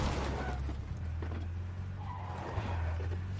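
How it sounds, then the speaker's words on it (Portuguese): In the video game PUBG, a car skids past with a loud, low engine rumble and a brief tire squeal. It lasts a few seconds and can be heard alone, with no voices. "Carro!"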